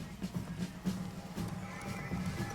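An electric horse in the video game BioShock Infinite gives a faint, low whinny against steady game ambience and background music, quiet and somewhat distant.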